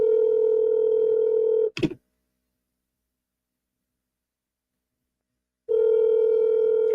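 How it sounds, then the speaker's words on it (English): Steady telephone ringback tone while waiting for an answer, a loud continuous hum that cuts out briefly with a click and then resumes after several seconds of silence. "Come on, Travis, pick up your phone."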